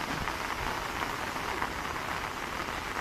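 Steady rain falls at an outdoor hot spring in Beitou, Taiwan, a dense, even hiss of drops on surfaces that continues without a break.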